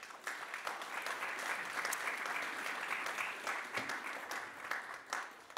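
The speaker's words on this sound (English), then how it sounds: "Can we have a big round of applause for our panel?" Audience at a business summit applauds a panel with a steady, dense burst of clapping that holds for several seconds before thinning out, with no talk over it.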